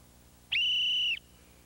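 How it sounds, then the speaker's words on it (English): A coach gives a single loud, clear whistle blast lasting about half a second to signal runners, sharp and steady in pitch, over quiet background. "until I blow the whistle"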